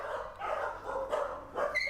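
Dogs in holding pens in Thailand barking and yelping, a few short overlapping barks at moderate distance over a muffled background.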